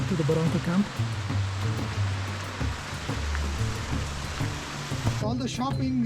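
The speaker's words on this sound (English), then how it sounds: "There's the water supplying to the Barranco camp." Water rushing steadily in a mountain stream that supplies Barranco camp on Kilimanjaro, a broad, close, continuous wash. Brief voices sound over it.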